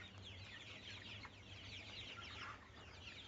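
A flock of chickens on a poultry farm, recovering from bloody dysentery, clucks continuously at close range, with overlapping calls forming a steady, busy chatter throughout and no speech.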